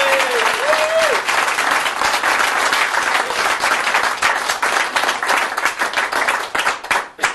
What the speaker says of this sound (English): give these people a round of applause for coming back